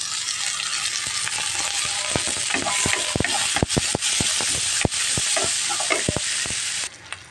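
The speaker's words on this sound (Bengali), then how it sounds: "চিংড়ি মাছ, পেঁয়াজ সব আমার ভাজা হয়ে গেছে" Small shrimp and onion sizzle loudly in a pan, with a spatula repeatedly scraping and clinking against the metal in an uneven rhythm over the constant frying hiss.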